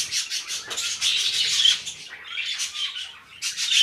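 A parrotlet chick squawks in its nest, repeated close, harsh, raspy begging calls in short bursts with brief pauses between them.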